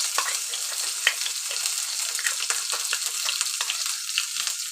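Ginger-garlic paste hits hot oil already holding whole cumin seeds and two halved bay leaves, giving a loud, continuous sizzle scattered with sharp pops and light stirring, with no voices.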